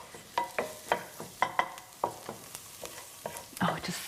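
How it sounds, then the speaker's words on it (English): Indian curry being stirred in a pan, a spoon scraping and knocking in repeated short strokes over a soft sizzle, close and fairly quiet, with no talking. "So we'll just give this a little stir now."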